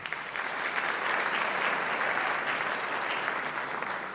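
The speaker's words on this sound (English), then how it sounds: "So applause for him." Audience at a county executive debate applauds steadily for a few seconds, a dense, even wash of clapping with no talk over it.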